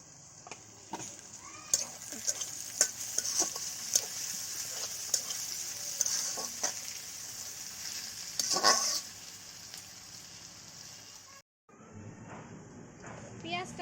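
Onions and green chillies fry in a pan with a low steady sizzle and occasional stirring clicks, while a person talks over most of it and the sound briefly cuts out near the end.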